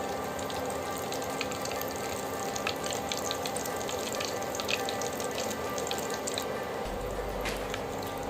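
Whole spices and sliced dried red chillies frying in hot oil for beef tripe curry, a continuous dense sizzle with crackles and pops, close and steady.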